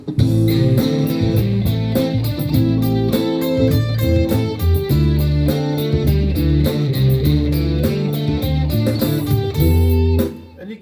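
An electric guitar runs a steady melodic pentatonic scale line over a full backing of sustained minor chords, loud and continuous, fading out at the end.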